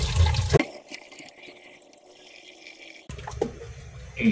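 Water pours steadily into a pressure cooker holding cow skin for balbacua, a continuous splashing stream that starts after a brief clatter and runs several seconds before a louder burst of handling noise.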